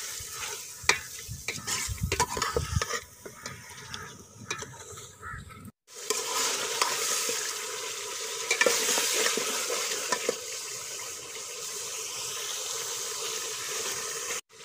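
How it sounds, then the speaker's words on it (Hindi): Mutton browning and frying with already-browned onions in a pot, steady loud sizzling with repeated stirring and scraping strokes, close up, a brief drop to silence midway before the frying resumes. "अब इसमें हम गोश्त डालेंगे और अच्छी तरह ब्राउन करेंगे,"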